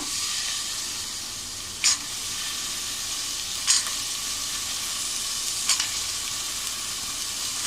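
Green peas and tomato sautéing in a pan give off a steady, bright sizzle throughout, with a few sharper spatters or stirring scrapes near the start, middle and end.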